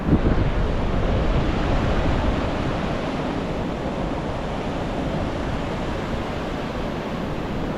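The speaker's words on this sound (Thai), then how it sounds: "จะบอกว่าคลื่นแรงมากดูดิ" Strong early-morning sea waves at Mae Ramphueng beach in Rayong, Thailand, make a steady, loud, close surf roar mixed with wind buffeting the microphone, continuous with no voices.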